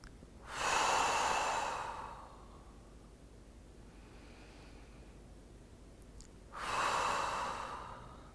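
Two long, deep breaths during a prenatal pilates exercise, each a slow rush of air lasting over a second, close and clear with a quiet stretch between them.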